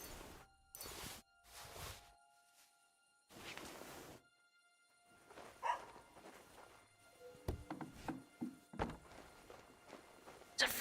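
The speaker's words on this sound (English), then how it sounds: "There's a freaking dog around here." A dog barking in the medieval video game Kingdom Come Deliverance 2, a few sharp barks early on, followed by footsteps and clattering game sounds at moderate distance.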